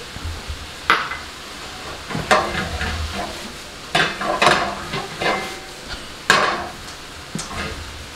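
Chili hitting a hot pan sizzles steadily while a utensil scrapes and stirs in repeated bursts, with occasional clanks of metal against the pan, close and clear with no talking.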